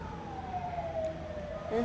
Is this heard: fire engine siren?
yes